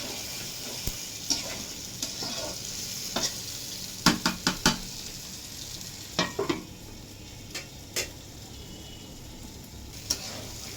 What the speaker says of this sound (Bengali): কষানো হচ্ছে, এই যে কষাইতেছে মাত্র দিছে